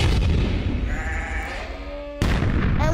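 Sheep bleat as an audiobook sound effect, a couple of wavering nasal calls over a low rumbling boom, with a sharp cut partway through before the bed of sound continues.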